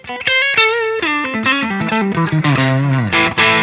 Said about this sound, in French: Une overdrive plus fine, moins épaisse.